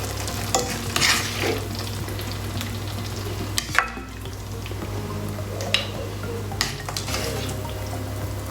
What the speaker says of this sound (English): I'm going to serve it in a bowl